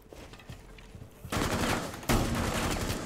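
Shotgun blasts in Rainbow Six Siege, two sharp loud reports close together, each followed by a lingering roar of gunfire and noise that carries to the end.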